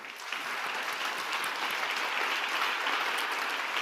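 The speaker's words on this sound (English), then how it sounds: "A round of applause for him." An audience at a youth forum opening ceremony claps steadily for a session president taking the stage, a dense, even wash of applause from start to finish.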